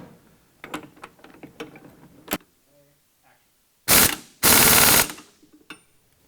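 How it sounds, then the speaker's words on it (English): A 3/4 inch bolt on a tie rod bracket is tightened during a steering control installation. Scattered metallic clicks lead into two loud, close, rattling power-tool bursts, the second lasting longer. "Now we can tighten up the 3/4 inch bolt on the tie rod bracket all the way."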